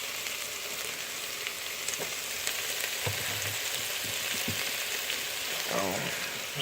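Onions and bell peppers for a shrimp stir fry fry steadily in a pan, a continuous soft sizzle with scattered pops and faint stirring clicks, moderately close and without talk.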